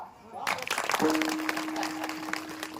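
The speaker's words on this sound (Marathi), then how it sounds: "15 टाळी वाजवा." An audience at a Marathi kirtan bursts into clapping that swells quickly into a dense, moderately loud patter, mixed with crowd noise, a sustained tone and a speaker's voice.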